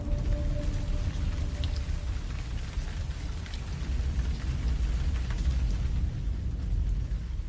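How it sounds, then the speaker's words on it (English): Monsoon rain showers pouring steadily over a village after intense heat, a dense, continuous wash of falling water, even and fairly loud throughout, with no voices. "the sweltering heat gives way to the monsoon showers"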